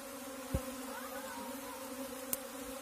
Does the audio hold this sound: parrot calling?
no